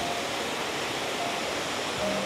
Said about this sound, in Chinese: 这个瀑布4层的。